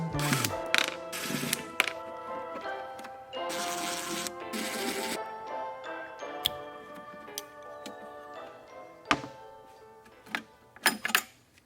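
Screws being backed out of the factory headlight ballast on a Subaru WRX/STI, heard as close metallic ticks, ratcheting clicks and rattles with short scraping and handling bursts in between.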